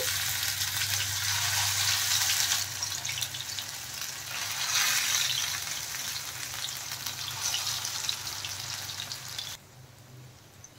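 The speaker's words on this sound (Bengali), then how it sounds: "এখন আমি কুমড়ো পাতার দেখেন বড়াগুলো ভেজে নিচ্ছি" Pumpkin-leaf and masoor dal fritters frying in hot mustard oil, a dense steady crackling sizzle up close that dips midway, then cuts off abruptly near the end.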